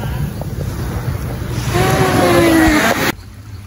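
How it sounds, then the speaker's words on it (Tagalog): Sea waves roll in at a beach in Palawan, a broad steady wash with wind buffeting the microphone, swelling louder midway before the sound cuts off abruptly. "Ganda ng dagat, alon."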